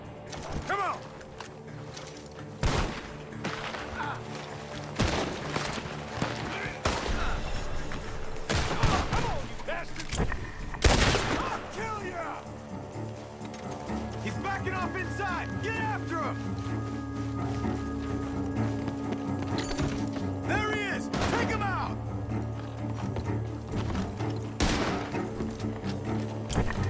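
Gunfire rings out in Red Dead Redemption 2 during a barn shootout, with scattered sharp shots, a few loud close bursts, and fainter distant fire over background ambience and music-like tones.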